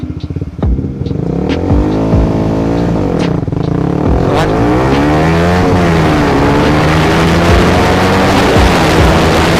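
Sport motorcycles like a CBR, R15 or GSX-R rev hard at a race start, engines climbing and dropping through gear shifts, loud and close, with layered machines accelerating together.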